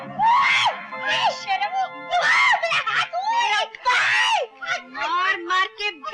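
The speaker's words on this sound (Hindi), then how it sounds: "क्या चिल्ला रही हो?" A woman screams repeatedly in a loud, high, wavering voice in a comedy film scene, with other voices shouting over and between the screams.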